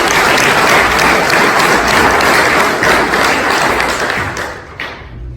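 A church congregation at a Spanish-language sermon breaks into loud, dense applause that holds steady for several seconds before fading out at the end.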